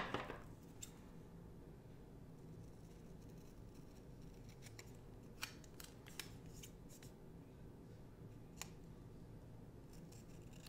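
Scissors snip a planner sticker, with a scattering of sharp, faint cuts spread across a quiet background, close and sparse rather than rhythmic.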